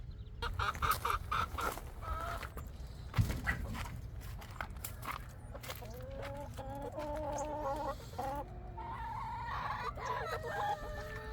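A flock of chickens clucks and squawks close by, with overlapping cackles and calls over a steady low rumble of background noise.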